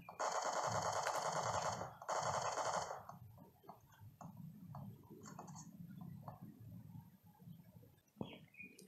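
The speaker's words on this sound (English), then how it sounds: "Okay, I can hear some gunshots." Gunfire in a mobile shooter game played on a Poco X2 phone: two long loud bursts of rapid automatic fire open, followed by scattered fainter shots and game sounds.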